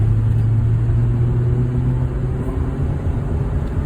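A 2013 Mazda3 being driven, producing a steady low engine hum and road rumble inside the cabin, fairly loud and even with a slight dip in level partway through.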